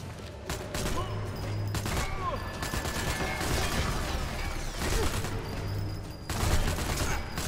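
Gunfire in the video game Sniper Elite 4, dense bursts of shots and booms rolling through much of the scene, loud and continuous with brief gaps, mixed with game mechanism noise.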